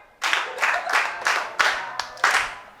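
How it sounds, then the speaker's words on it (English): Rhythmic group clapping along with singing by music teachers of the Daryll Jordan Secondary School Steel Orchestra: about seven sharp claps in a steady beat, each with a brief decay, fairly close and moderately loud, with no talking. "You gotta clap when you're singing."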